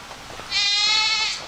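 Goats bleat along a road during a long hike on the Mason-Dixon Trail, a single sustained, wavering bleat rising loud after a quiet start and holding for about a second before fading.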